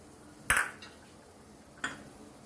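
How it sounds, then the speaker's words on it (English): Two sharp, bright clinks of a spoon striking a bowl while chili pickle is stirred with oil, spaced over a second apart against a quiet background. "Mix this all very nicely, and our chili pickle is ready."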